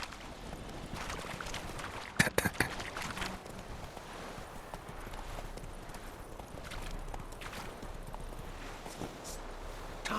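Roach, Geralt's horse in The Witcher 3, gallops with a continuous rhythmic clip-clop of hooves. A few sharper, louder hoofbeats stand out early, and the steady pounding continues under a low ambient backdrop.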